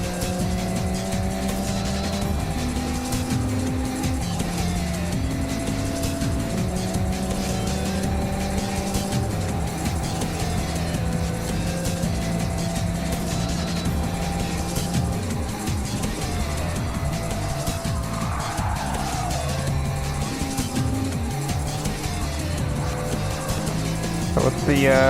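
Racing cars in a driving video game, a Dodge Viper and an Audi R8 with an Alfa Romeo 4C, roar continuously with stepped engine tones rising and falling through gear changes. A loud, steady engine drone runs throughout.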